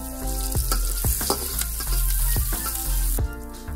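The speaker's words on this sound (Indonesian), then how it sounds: "Goreng bawang-bawang tadi." Onions fry steadily in a hot pan for a sausage dish with black pepper and mayonnaise, giving a loud, continuous sizzle broken by a few sharp stirring scrapes, with no voices.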